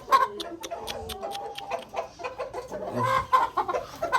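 Hens cluck and squawk in short, agitated bursts after a fight among the flock, with repeated sharp calls close by and brief pauses between them.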